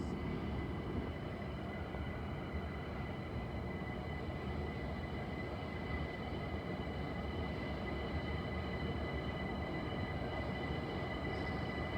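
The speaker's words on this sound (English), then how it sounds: "Train now approaching is from is from New Cross pulling into platform 2 or 3." A London Overground train from New Cross rumbles steadily into platform 2 at Highbury & Islington station, with a continuous low mechanical roar and faint high-pitched whine throughout, no voices.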